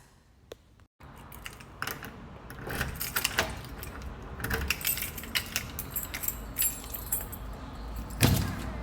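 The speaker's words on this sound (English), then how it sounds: "You might hear my keys jiggling until I put it down" Keys jangle close by, chinking and rattling steadily for several seconds in a new luxury apartment, with a louder jingle near the end, no speech.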